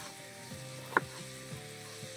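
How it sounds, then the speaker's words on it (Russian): Plov ingredients fry in a pan over an outdoor fire on a fishing trip by the Neman, browning before carrots go in. A quiet, steady sizzle runs throughout, with one sharp utensil clink near the middle and no talking. "жарим его до золотистой корочки и потом добавляем морковочку"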